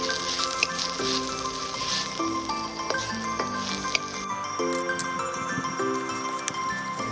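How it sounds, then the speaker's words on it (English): Mushrooms, shrimp and shallots stir-fry in a couple tablespoons of oil over medium heat, a steady close sizzle with scattered clinks of a utensil against the pan and background music throughout. "over medium heat, we stir-fry the mushrooms, shrimp, and shallots with a couple tablespoons of oil"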